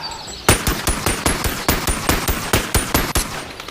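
A rapid string of pistol gunshots in the VR game Bonelab, about fifteen sharp, loud cracks in quick rhythmic succession with no speech.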